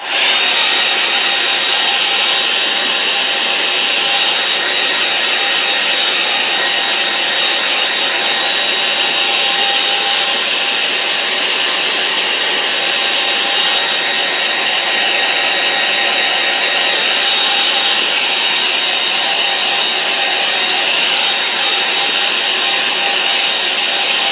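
A hair dryer blowing steadily over a watercolour painting, a loud, constant high-pitched whooshing drone with motor whine that runs unbroken throughout, with no talk.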